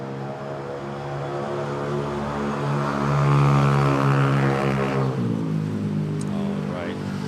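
An airliner takes off at Manila Airport, its engines building to a strong droning roar with steady layered tones that swell and then shift pitch as it rotates nearby.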